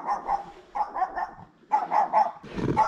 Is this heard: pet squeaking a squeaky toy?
no